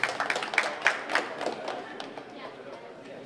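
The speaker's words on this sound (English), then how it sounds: "Yes, more applause." An audience at a university library pitch event gives a short round of applause, scattered claps that start fairly strong and thin out quickly into a faint murmur, with some talking underneath.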